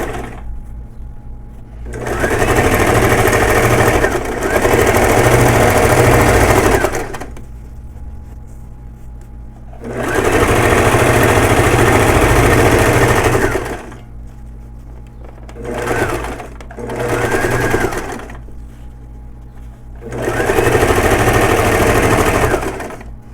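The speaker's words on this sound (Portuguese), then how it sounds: "E vamos passar a costura." A sewing machine stitches a seam on fabric for a doll, running in long loud steady bursts of several seconds each, broken by short pauses and two brief stutters in the middle.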